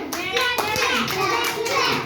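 Several children clap their hands together in a quick, scattered burst, with young voices mixed in under the claps.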